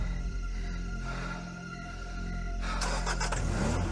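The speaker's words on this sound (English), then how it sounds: "He then returned to his car and fled." A car engine fires up and revs, accelerating as the vehicle pulls away at moderate distance, with a steady low rumble and a louder surge near the end.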